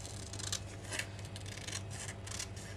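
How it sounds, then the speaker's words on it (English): Tim Holtz scissors cut through paper in a series of quick, close snips and rasping slides, crisp and fairly quiet, each cut distinct, with a faint low hum underneath. "Got old Tim Holtz scissors at work."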